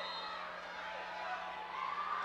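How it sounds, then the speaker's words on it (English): Broad, steady crowd roar with scattered cheers and shouts from the stands and student sections at a high school boys' district championship basketball game in a gym. "Got a great crowd here."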